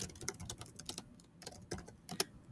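Typing on a computer keyboard, quick irregular clicks close up and fairly soft, with brief pauses between bursts and no voice.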